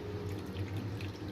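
Water runs steadily into flour for nihari, a continuous close trickle and splash over a low hum, with no talking.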